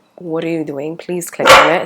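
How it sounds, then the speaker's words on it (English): A pet dog barks near the end, a burst of loud, close yaps following a stretch of a person talking. "Hey, that's my dog telling you to watch the video."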